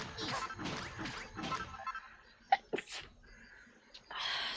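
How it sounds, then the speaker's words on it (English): A big, close human sneeze bursts out sharply mid-way through a Dragon Quest Builders 2 game stream, preceded by breathy rustling and followed by a quieter second catch of breath. "Sorry about the big sneeze."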